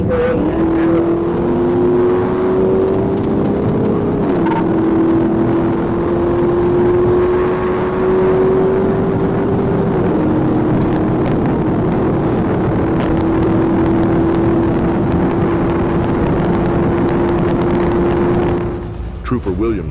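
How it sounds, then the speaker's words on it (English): Police cruiser racing at about 140 mph after a white Mustang, a loud, steady engine roar with a sustained high-pitched whine that holds for nearly the whole stretch, then dips briefly at the end. "Trooper Williams pushed his car to 140 miles per hour, trying to catch up"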